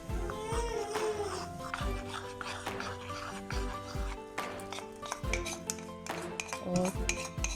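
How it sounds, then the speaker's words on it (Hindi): A spoon stirs lassi into a spice mixture in a pan for kadhi pakora, with repeated scraping and light clinks against the metal over steady background music. "थोड़ी सी लस्सी डाल के इसको अच्छी तरह मिक्स कर लेंगे और मसाले में डाल देंगे"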